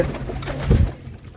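Deep, rolling pigeon coos nearby, swelling to a louder throaty burst midway before trailing off.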